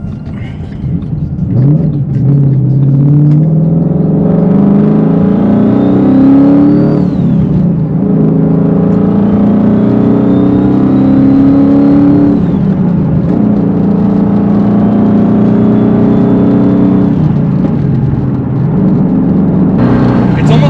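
Twin-turbo 1000 horsepower 2015 wide-body Mustang with an electrical fault accelerating onto a highway, engine note climbing through three gears with shifts between, loud and close from inside the car.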